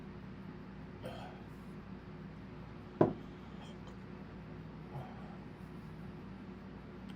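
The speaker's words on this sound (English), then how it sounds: "Getting hiccups." A single sharp hiccup comes from a person tasting a hot sauce. It is a brief, abrupt catch heard close up against a steady low room hum, with soft breathy sounds around it.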